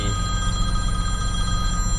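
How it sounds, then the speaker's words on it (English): A telephone rings steadily on a farm after harvest, a loud, continuous electronic bell tone filling the whole moment with no voices over it. "Oh, there's the phone, but that can wait."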